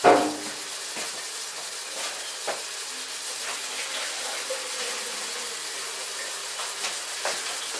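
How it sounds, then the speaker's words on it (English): Excess water is poured off a hot skillet of cottage pie filling, opening with a sharp clatter and then a steady hissing, sizzling steam with occasional small ticks and pops, close and moderately loud. "I think I'm going to throw off some of this water."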